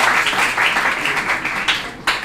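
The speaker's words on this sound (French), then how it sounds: "On applaudit quand même." Studio audience at a Congolese school quiz show clapping steadily, a dense even patter of applause throughout, fairly close and loud with a brief dip near the end.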